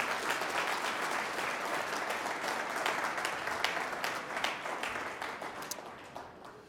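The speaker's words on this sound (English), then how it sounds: "Please give yourself a round of applause." An audience at a community solution session gives a steady round of applause: dense, continuous clapping from many people that stays fairly even throughout and thins slightly toward the end.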